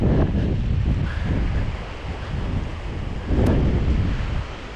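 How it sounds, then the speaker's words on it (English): Strong wind at a Mosquito Lagoon shoreline in Florida roars steadily across the microphone as loud, continuous low buffeting, with swelling gusts and a faint wash of water beneath. "that's way too windy"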